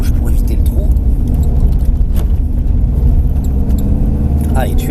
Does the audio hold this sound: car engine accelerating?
yes